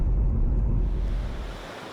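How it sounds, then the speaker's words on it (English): Fast-flowing, rough river water in the Gorges du Verdon rushes in a steady, loud low roar, heard close and outdoors with some wind buffeting, easing slightly toward the end. "You can see that the water here in the river is really fast flowing."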